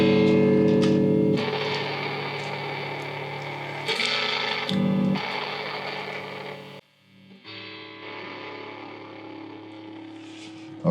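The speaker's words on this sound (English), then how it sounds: "I just went to more volume. I went to distortion." Cheap $70 electric guitar played through heavy distortion, loud sustained chords and riffs with buzzing harmonic noise, a brief drop in the middle before the distorted playing resumes.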